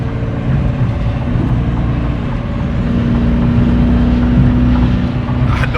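Loud, sustained engine drone and road roar from a Dodge Challenger SRT 392 cruising fast on a highway, with a faint high whine running through it and rising slightly midway.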